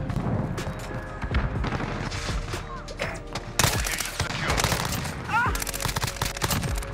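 Rapid automatic gunfire bursts in Modern Warfare multiplayer, dense and loud, with repeated shots and booms under a player's talking.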